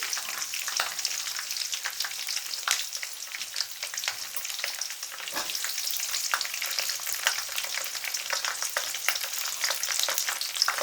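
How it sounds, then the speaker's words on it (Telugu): Onion and curry leaves fry in hot oil with a steady, close sizzle and crackle and occasional stirring scrapes, continuous throughout with no talking. "కరివేపాకు వేసి బాగా ఆయిల్లో వేయించాలన్నమాట"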